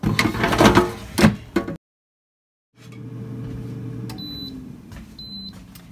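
Avalon Bay digital air fryer drawer clunking back into place with a couple of sharp knocks, then a short pause before the fan hum starts and two high electronic beeps sound as the timer is set.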